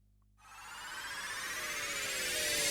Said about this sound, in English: So a couple of other risers and a glitchy riser.